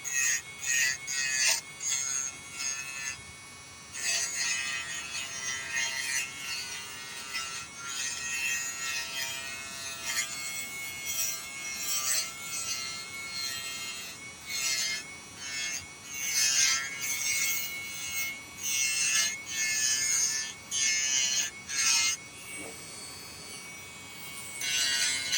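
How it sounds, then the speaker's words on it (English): A white abrasive silicone wheel grinds against a metal cuff bracelet in repeated rasping, scratchy passes that rise and fall in bursts, close and fairly loud, with no voices. "Just using a white abrasive silicone wheel. And just taper it down right down to the corner."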